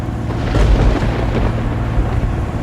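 Thunder from a lightning storm over the Ionian Sea rolls as a loud, low rumble that swells and lingers, heard from a sailboat crossing from Greece to Italy.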